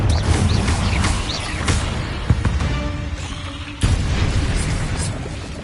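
Loud, dense rumbling blasts of the Confringo fire spell in Hogwarts Legacy, with a sharp burst near the middle and another heavy boom toward the end over a constant roar.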